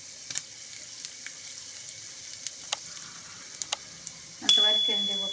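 Mustard seeds, cumin, urad dal and a dried red chilli temper in hot oil in a pressure cooker. A few faint pops and ticks come first, then a sudden loud sizzle bursts up near the end and slowly fades.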